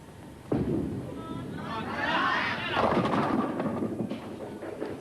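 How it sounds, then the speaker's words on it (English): A ten-pin bowling ball rolls down the lane at a 1988 professional match, a low rumbling roll that builds over a few seconds from a sharp start, with crowd and arena noise behind it. "And here we see the ball going down. It's picking up revolutions."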